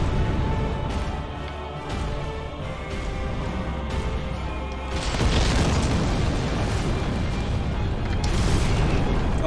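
Bomb explosions in the video game Dark Souls, with an enemy hurling bombs during an Iron Golem fight: booming bursts over steady game noise, the loudest blast swelling about halfway through and another near the end.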